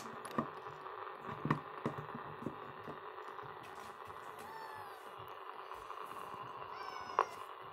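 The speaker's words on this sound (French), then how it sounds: "Miaou." A cat meows faintly in a room where CB radio sets are being tested and tuned, giving a couple of short, distant mews over a low steady electrical hum and scattered small clicks.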